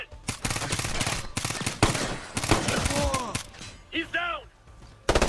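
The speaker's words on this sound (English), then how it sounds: "Light machine gun there!" Rapid bursts of light machine gun fire in the shooter game Ghost Recon Future Soldier, loud and continuous with short gaps, mixed with radio-style chatter and shouted squad voices.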